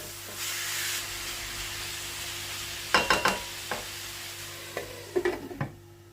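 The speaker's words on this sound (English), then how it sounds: "I'm gonna just mix it now and cover and cook in low flame for 10 minutes." Chicken and peppers cook in a pan with a soft background sizzle. A few close scraping stirs come in two short bursts, and there is no talking.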